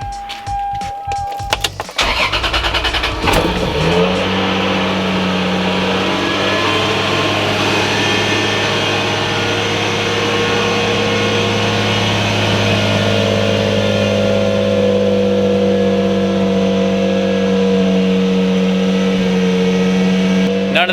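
A Toyota Supra engine cranks with a few sharp mechanical clatters, catches, and then settles into a loud, steady idle hum that continues without voices.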